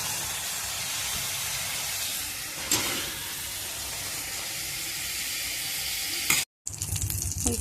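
Fried rui fish going into simmering gravy in a pan, a steady sizzling and bubbling hiss with a brief louder splash partway through and a sharp cut near the end.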